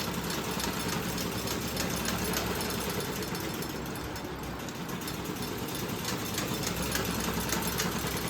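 A sewing machine runs steadily, stitching up torn pajamas at home, a continuous mechanical whir and clatter at constant volume with no pauses and no talking.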